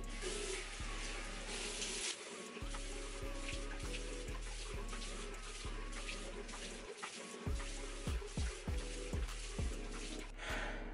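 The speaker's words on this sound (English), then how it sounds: "Now I'm just gonna rinse it off my face." A tap runs steadily into a sink while a honey, lemon and sugar mask is rinsed off a face, with splashing and dripping water close by and a few brief pauses in the flow.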